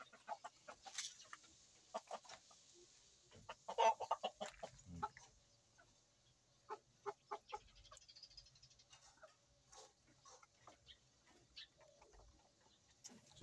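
Silky chickens cluck in scattered, irregular bursts at feeding time, fairly close but soft against a quiet background. Small ticking pecks fall between the calls.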